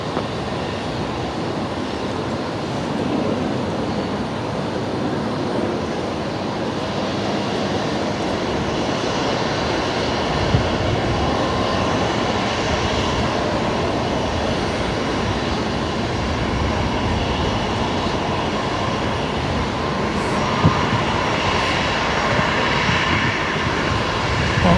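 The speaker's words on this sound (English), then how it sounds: "A rare Qantas 787 arrival here in Brizzy" Qantas Boeing 787 arriving at Brisbane Airport, its engines a steady broadband roar heard from a distance in the open air, holding at a fairly even level with no talk over it.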